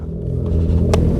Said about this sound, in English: He's got a big turbo in his, just like Chris's, super dialed in